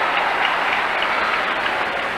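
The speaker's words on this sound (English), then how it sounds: "the crowd reacting to that matchup" Basketball arena crowd roaring steadily in reaction to a matchup, a dense, loud wash of cheering and noise with no break.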